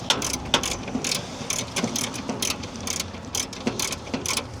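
Ratchet wrench tightening a bolt on a battery mount of an American Clipper, a quick series of sharp clicking strokes in bursts, close and fairly loud with no talking.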